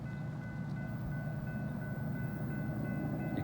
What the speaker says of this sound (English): All right, I finally hear the train coming.